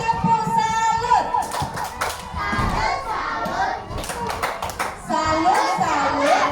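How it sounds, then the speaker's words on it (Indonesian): Schoolchildren clap together in a classroom, a dense, fast patter of hands that carries on with shouting and cheering over it, loud and close throughout. "Kita kasih tepuk salut."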